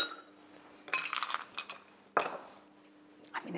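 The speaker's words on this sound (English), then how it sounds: "Give it all a little stir." Spoon clinking against a glass while a holiday drink is stirred, two bright bursts of light metallic chinks with a short tap at the end, close and fairly clear over a quiet background.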